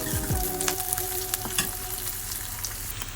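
Tomato sizzles in hot oil for moong dal sambar, a steady close frying crackle with scattered pops and a few stirring scrapes against the pan, no talk.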